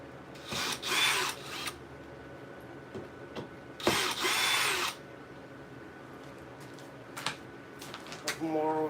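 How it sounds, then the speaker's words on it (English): Power drill or driver bursts while nails and screws are pulled out of a kitchen ceiling during a remodel, two loud close whirring runs with scraping and knocking between them, and some talk in the background. "Now we're going to take out nails."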